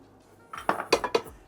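Small vintage ceramic bowls are handled close by, giving a quick series of four or five bright clinks and knocks in under a second.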